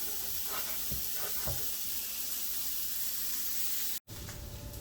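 Sausages fry in a pan with a steady, close sizzle and hiss, broken by a few soft stirring scrapes, and the sound cuts out for a moment near the end.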